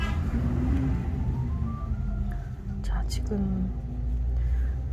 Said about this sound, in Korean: 계속 차 지나가는 소리가 들리죠